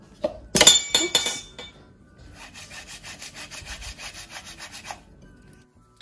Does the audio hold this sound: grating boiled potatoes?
yes